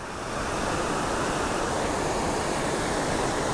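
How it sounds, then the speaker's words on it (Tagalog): Dara Falls in Porac, Pampanga pours out a steady, dense roar of falling water, loud and unbroken from start to finish with no voices. "Ito yung falls niya."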